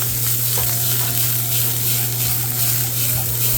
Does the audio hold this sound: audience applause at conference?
no